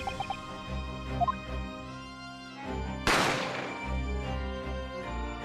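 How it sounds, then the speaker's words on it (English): A single sharp gunshot from The Great Ace Attorney video game cracks out loudly over a steady backdrop of game music, with a short decaying tail. "We've heard this gunshot about 3 times."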